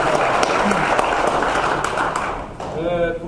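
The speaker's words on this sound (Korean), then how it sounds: "박수로 부탁드립니다." Applause from an assembly audience at a ROTC alumni general meeting, approving the bylaws: dense, steady clapping from a crowd throughout, with a brief dip near the end and a voice starting to speak at the close.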